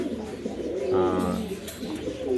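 Magpie pigeons at a home pigeon farm give a rich, throaty coo up close, swelling and fading in a rolling pattern, alone without talk.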